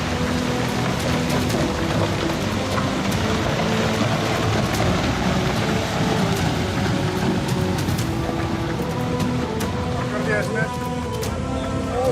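Heavy rainfall in Kullu pours down in a dense, unbroken roar that stays loud and steady throughout, with a faint low rumble underneath.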